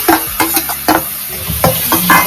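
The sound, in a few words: mustard seeds, dried chili, curry leaves frying with amla paste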